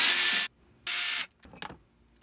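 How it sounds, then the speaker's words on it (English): A power driver fitted with a T30 star bit backs out door latch screws on a Lexus GX rear door, giving two sustained high whirring bursts followed by softer clicking and rattling as the screws come free, with no talk. "What we're going to do is take our T30 star bit. We're going to take the existing screws out."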